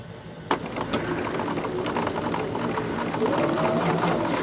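Sewing machine stitching quilt block pieces together, a steady close whir with fast rhythmic needle patter running throughout.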